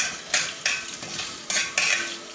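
Whole spices, cinnamon stick, cardamom, cubeb and bay leaves toast in hot oil, a soft sizzle punctuated by five sharp scraping clinks of a utensil against the pan at uneven intervals.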